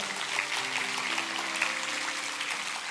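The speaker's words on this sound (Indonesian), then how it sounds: "Kasih tepuk tangan untuk beliau." Congregation applause during a church service, a steady, even wash of clapping from a crowd with a soft sustained musical tone underneath.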